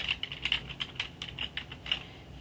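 Steady typing on a computer keyboard, a quick run of close, crisp key clicks at an even pace with no voices.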